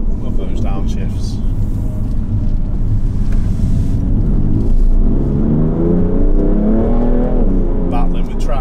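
A performance car's engine rumbles and rises in pitch as it revs through downshifts on a road, heard from inside the cabin as a loud continuous drone with climbing revs, while someone talks over it.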